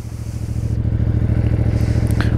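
A CFMoto 450CL-C motorcycle engine idles close by with a steady, slightly raspy low throb and a rapid pulsing rhythm, with faint clatter riding on top.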